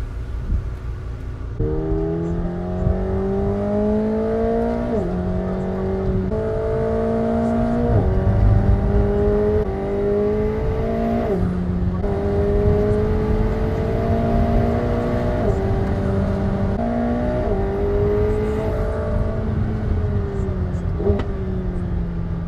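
A McLaren 720S drives sighting laps around the Estoril circuit, its engine note climbing steadily through the gears in repeated rising sweeps, each shift dropping the pitch before it climbs again, loud and continuous with no talk.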